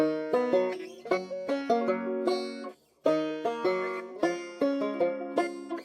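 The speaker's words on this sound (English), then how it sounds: "I added a simple banjo part, just following the chord progression" A banjo plucks bright, quick notes over a simple chord progression, twangy attacks decaying fast, with a short gap midway.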